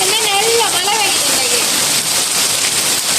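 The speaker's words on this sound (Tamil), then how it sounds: "வந்து தண்ணி மழை பெய்யுது பாருங்க என்ன மழை பெய்யுதுன்னு சொல்லி." Steady rain pouring down over a village during a multi-day downpour, a dense, continuous hiss filling the whole clip, with a faint tonal voice or call drifting over the wash of falling water.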